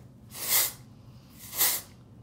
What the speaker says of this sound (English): It's called Thickening Dry Spun Finish. It's basically, you have to shake it up. It's an aerosol.